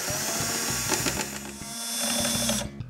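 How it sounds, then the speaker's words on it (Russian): A power screwdriver drives screws into wooden crates, a close, loud whirring motor with a ratcheting buzz that slows briefly and then resumes before cutting off. "теперь скрепляем саморезами друг с другом."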